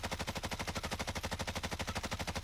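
Sustained automatic gunfire with stopping power rounds in Warzone, a fast, even stream of loud shots with no pauses across the whole stretch.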